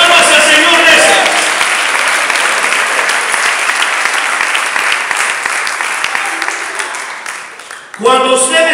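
Church congregation applauding during a sermon, loud sustained dense clapping that slowly fades over several seconds before a voice comes in at the end.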